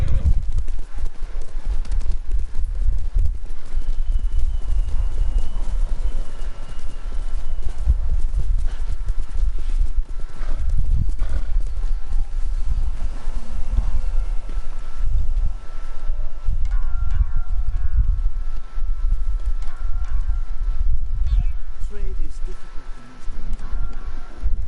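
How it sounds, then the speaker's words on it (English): Horse hooves clip-clop in a steady rhythm in Ghost of Tsushima, close and continuous. A soft whinny and wind noise come and go beneath the hoofbeats. "My horse went ahead out of danger."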